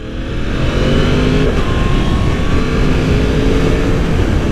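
A 2020 Yamaha R1 sport bike on fresh tires roars steadily at high revs, with the engine pitch shifting as it works through the gears with auto-blipping downshifts, loud and close with heavy wind rush and no talk.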